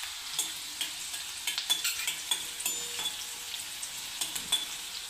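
Finely chopped green chillies and curry leaves frying in hot oil, a soft continuous sizzle broken by frequent light clinks and scrapes of a spoon stirring the pan.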